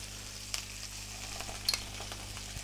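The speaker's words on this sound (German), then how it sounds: "Sellerie oder Petersilienwurzel, die Karotte. Lassen wir leicht weiter rösten." Celery or parsley root and carrot roasting in a pan for a pork roast, a faint steady sizzle with a few soft stirring clicks and scrapes.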